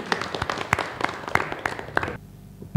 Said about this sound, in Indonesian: Boleh tepuk tangan untuk kita semuanya?